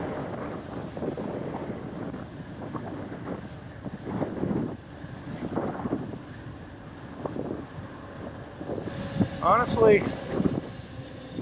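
Wind buffets the microphone of an e-bike, a Cyberbike Raptor, pedaled at speed into a headwind, a steady broadband rush that rises and gusts throughout while a rider talks over it.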